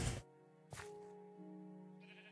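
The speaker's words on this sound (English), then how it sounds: "let's go lure in our sheep" Sheep bleat in a video game, a loud close bleat followed by a second shorter one, then fading into a quiet sustained tonal backdrop.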